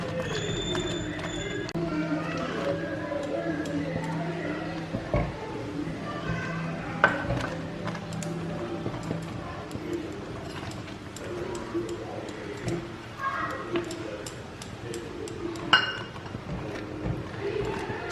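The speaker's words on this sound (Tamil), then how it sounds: "இதை நான் அப்படியே மசிச்சு விட்டு கிண்டுறேன்." Spoon stirring and mashing a thick milk cake mixture in a pan on the stove, soft irregular scraping and thuds continuing under steady background noise, with a voice talking over it.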